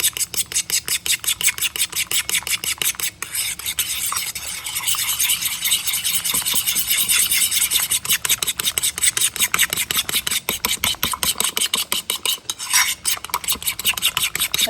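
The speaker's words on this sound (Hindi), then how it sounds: "1 टीस्पून बेकिंग पाउडर अंडे के अंदर डाल के हमने इसको अच्छे से अब मिक्स करना है" A spoon or whisk beats eggs with baking powder in a bowl for rasmalai batter, giving steady fast clinking strokes against the dish, loud and close, with a short pause partway through and no voices.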